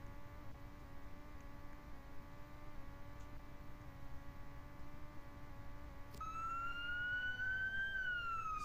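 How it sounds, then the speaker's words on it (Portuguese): A police siren in Roblox wails steadily under a continuous engine drone, then a second rising siren tone cuts in loudly near the end. "Esse barulho de polícia."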